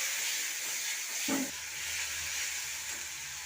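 Ground spice paste hitting hot oil with onions and chopped tomato in a pan for a fish curry with ridge gourd and potato, giving a steady close sizzling hiss throughout, with a brief stir or clatter in the middle.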